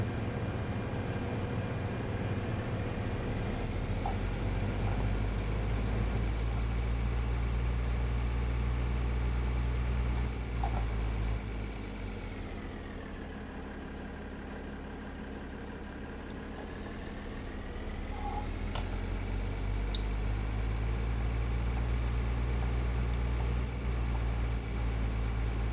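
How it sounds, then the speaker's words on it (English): Loud tractor engine idling in Farming Simulator 2013, a steady low rumble with a droning whine that dips in pitch midway and then rises again, with no talk. "That's a loud engine."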